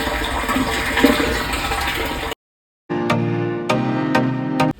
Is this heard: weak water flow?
yes